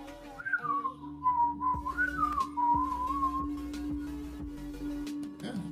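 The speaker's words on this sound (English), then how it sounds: "Maybe if I whistle." A person whistles a wavering, sliding tune for a few seconds over a low steady hum, then stops, leaving scattered soft clicks.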